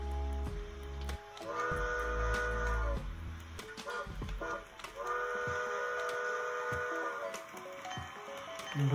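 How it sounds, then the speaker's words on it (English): A small steam whistle sounds twice in long, steady tones, separated by a pause, over hissing and mechanical clatter from a model engine close by. "And we can blow the whistle."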